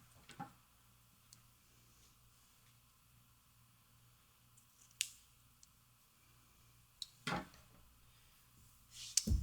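Scissors cutting about three inches of ribbon for a bow center on a sewing project: a few quiet, crisp snips spaced seconds apart in an otherwise hushed room.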